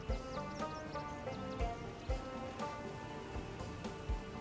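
Steady rain falls in the Project Zomboid video game, a continuous close hiss with scattered heavier drips and soft thuds, and a faint voice at moments.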